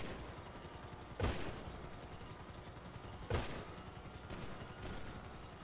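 Gunfire in the video game GTA V, heard as two sharp, isolated shots a couple of seconds apart, fairly quiet over a steady low background rumble.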